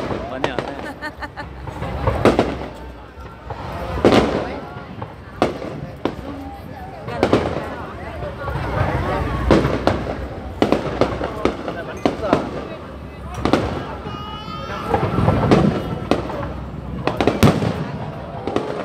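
Firecrackers and fireworks going off at a Ban flower festival among the Iu Mien, repeated loud cracks and pops in irregular clusters nearby, overlapping with people talking and shouting.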